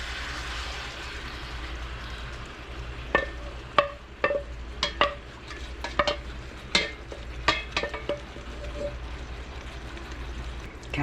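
Sauce sizzles in a hot pan with Hawaiian pork, a continuous frying hiss broken by sharp clicks and scrapes as the spoon stirs, starting quiet and growing busier with each stroke.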